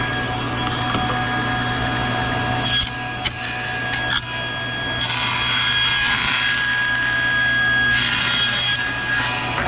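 A table saw cuts wood for a rabbet-jointed drawer box, producing a loud, close, steady whirring grind with a sustained tone that swells as the blade works through the board, with no talk.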